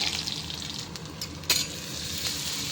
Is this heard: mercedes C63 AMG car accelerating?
no